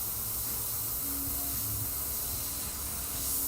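Steady, close airbrush hiss as paint is sprayed in fine amounts onto a wooden skull panel, continuous and even for the whole stretch without speech.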